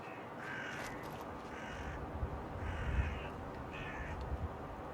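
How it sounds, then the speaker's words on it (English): Crows caw repeatedly in the Fallout: London video game, several harsh calls in a loose rhythm over a low ambient rumble, moderately distant and with no talk. "Detected by crows."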